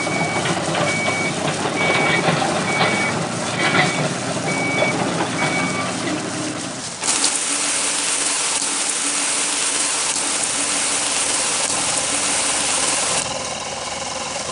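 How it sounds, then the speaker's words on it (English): A toy fire truck raises its ladder with a run of repeated electronic beeps under a mechanical whir, and a brighter motorized buzz takes over partway through before easing off. "All right, let's raise the ladder."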